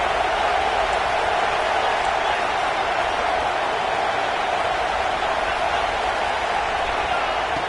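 A football stadium crowd roars in a dense, sustained wash of noise during a red zone defensive stand, loud and unbroken from start to finish.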